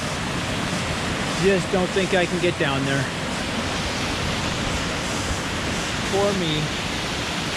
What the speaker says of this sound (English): Then there's another waterfall coming down from another little creek over there.